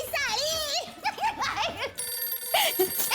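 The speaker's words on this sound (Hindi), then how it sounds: "फोन आया।" A telephone rings in a busy household kitchen scene, its repeating electronic tone sounding over overlapping lively voices and children's chatter.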